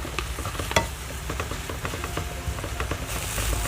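Wai Wai instant noodles stir-fried in a pan, a continuous close sizzle with quick spatula scrapes and taps as the strands are tossed and broken apart, no voices.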